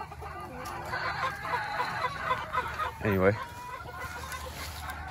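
Bantam Polish chickens cluck and murmur in a coop being winterized, with a sharper honking squawk near the three-second mark; a person talks over the flock throughout.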